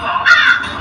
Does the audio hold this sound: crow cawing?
yes